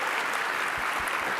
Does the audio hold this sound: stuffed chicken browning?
no